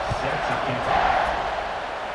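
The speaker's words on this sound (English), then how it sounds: "They're set to kick it off, and this crowd now ready to get behind them." Stadium crowd in EA Sports College Football 26 gives off a steady, dense roar of cheering throughout, swelling slightly mid-clip as a kickoff approaches, with no distinct voices standing out.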